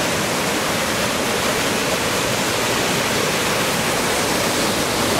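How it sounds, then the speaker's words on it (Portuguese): A shallow waterfall with a strong current rushes in a steady, loud, broadband roar heard up close, unbroken from start to finish. "Cachoeira. Embora seja rasa, a água, a correnteza aqui é bem forte."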